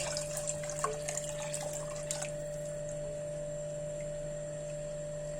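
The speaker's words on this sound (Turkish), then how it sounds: "Şimdi yavaş yavaş 4 su bardağı normal su ekliyorum." Water pours into a pot of Turkish tarhana soup, a brief splashing burst at the start fading into a steady hum of kitchen background, fairly quiet and without talking.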